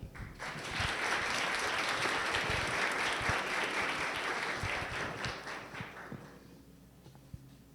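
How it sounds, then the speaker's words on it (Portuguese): Sustained applause from a lecture audience at the end of a talk on Embraer radar technologies, a dense steady clatter of many hands lasting several seconds before thinning out and fading. "Uma salva de palmas"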